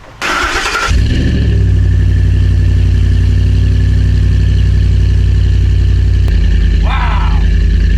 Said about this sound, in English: I'm going to start my truck up right in your face